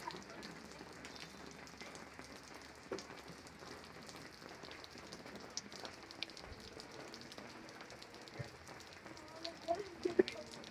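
Rain falls outside a family home, a soft, even hiss of drops on surfaces with a few sharper patters near the end, fairly quiet and continuous.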